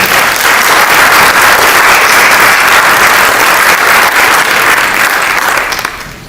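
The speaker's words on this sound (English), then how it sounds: "a huge round of applause" Loud, sustained applause from a book launch audience for a guest, a thick wash of many clapping hands running for about six seconds before cutting off abruptly.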